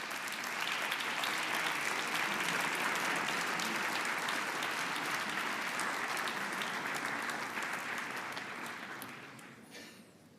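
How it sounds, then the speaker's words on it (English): A large audience applauds Romanian President Klaus Iohannis at a forum, a dense, sustained roar of clapping that holds strong before tapering off near the end. "Once again, another round of applause for the President."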